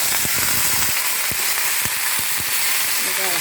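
Tomato and eggplant frying in a pan for a Telangana-style pachadi, with a steady sizzle throughout and a few sharp crackles and stirring taps. No one speaks.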